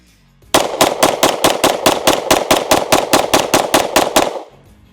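A pistol is fired in a rapid string of about eighteen loud, evenly spaced shots, sharp and close, ending abruptly with a short quiet tail.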